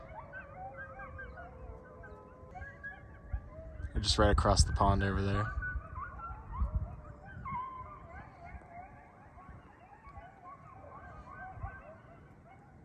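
Coyotes yip and howl from across a pond at a swamp in February, stirred up after a distant siren. A sharp burst of yelping rises in the middle and wavering howls carry faint and far, while someone talks quietly over them.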